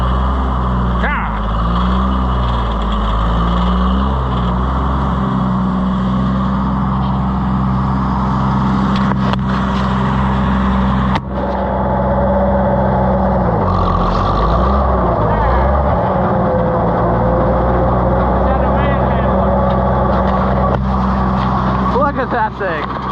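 A New Holland 352 grinder mixer's engine runs steadily and loudly, droning under shouted talk with rising and falling throttle, occasional clanks and a brief dip partway through.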